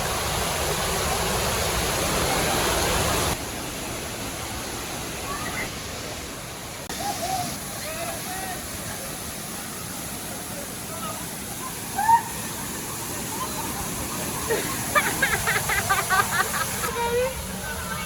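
Santa Rita falls near Boquía, Salento, pours out a steady broadband rush of water. The roar holds throughout under frequent voices and chatter from people walking nearby.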